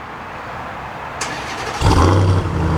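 A Ram TRX truck engine idles with a low rumble, then a sharp click is heard before the engine revs up louder with a deep exhaust note.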